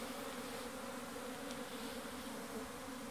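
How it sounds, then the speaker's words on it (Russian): Honey bees fly around an apiary in spring, making a steady, close swarm of buzzing that holds at an even level throughout with no talking. "Вот они пчелки."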